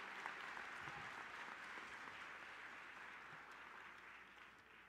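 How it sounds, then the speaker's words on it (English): Audience applause at a developmental disabilities awareness month kickoff event, a steady wash of many hands clapping at once that holds fairly even and tapers slightly toward the end, with no voices over it. "let's give them a round of applause and some good luck"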